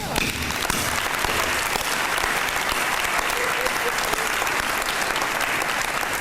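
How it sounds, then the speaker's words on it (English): A dense, sustained round of audience applause for a former football coach at a high school athletic hall of fame ceremony, loud and steady throughout. "it would warm my heart if you gave him a round of applause"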